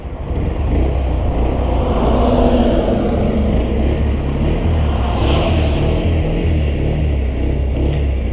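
A Bajaj Pulsar 125 Neon motorcycle engine turns over and settles into a steady, loud, rumbling idle that continues without a break.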